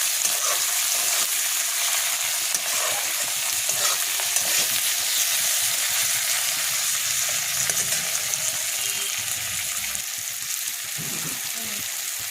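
Spice paste with chili powder sautéing in a pan for a Bengali kochur loti and prawn dish, giving a steady, close, continuous sizzle with occasional soft stirring scrapes throughout, no talking.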